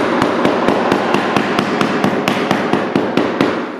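A hammer struck repeatedly and hard on a parquet floor to separate the wood from the cement beneath, a steady rhythm of about fifteen sharp, loud, close knocks, no talking.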